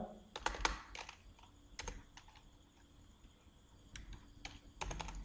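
Keys clatter on a computer keyboard while an Excel UPPER formula is typed, in irregular bursts of sharp clicks with short pauses, fairly close and with no talking.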